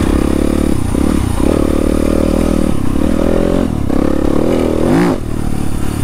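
A dirt bike engine runs at night, loud and close throughout, holding a steady droning roar with a few brief throttle dips and one quick rev toward the end, plus light rattling clatter over the ride.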